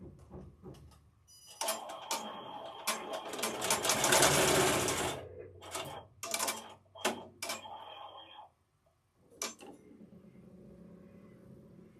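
An embroidery machine stitching an in-the-hoop stuffed duck toy, with rapid mechanical needle chatter in bursts that start and stop, loud and close, pausing briefly before one last short run.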